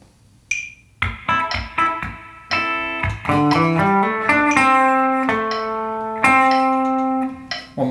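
Clean electric guitar playing a melodic line from a song, bars 30 to 41. Plucked single notes and short runs in a steady rhythm, close and clear, opened by a brief high count-in tone.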